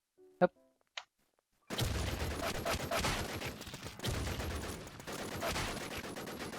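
Gunfire in a first-person shooter video game: two short isolated shots first, then a dense, loud, continuous burst of rapid automatic fire that runs to the end.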